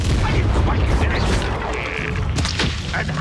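A Confringo fire spell in Hogwarts Legacy on Switch sets off loud, dense booming blasts that fill the whole stretch, layered with crashing battle noise and sharper bangs near the end.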